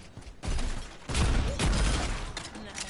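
Grenade launcher fire in the video game Overwatch: several thumping, noisy bursts in quick succession, loud and close, with a voice talking over parts of it.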